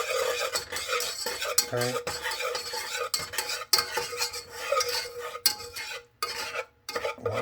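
Whisking butter and flour in a pot over medium heat for mac and cheese: steady scraping and clinking of a whisk against the pot with faint sizzle, loud and close, with a brief word spoken.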